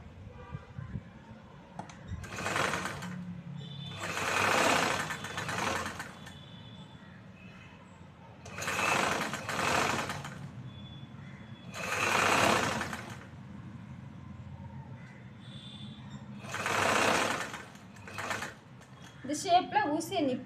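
A sewing machine top-stitches a choli blouse in short, separate bursts of whirring stitching, each lasting a second or two, with quiet gaps between where the fabric is turned.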